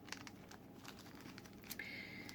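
Packaging of diamond painting tools (a small tray, wax and pen) being unwrapped, soft, close crinkling and rustling of plastic with a few sharp crackles, quiet and alone.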